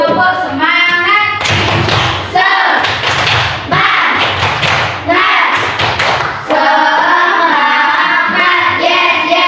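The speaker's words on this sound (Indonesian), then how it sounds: "Tepuk semangat." A class of schoolchildren performs a rhythmic spirit-clapping routine in a lesson, sharp patterned claps and thumps alternating with children chanting together and a teacher's voice.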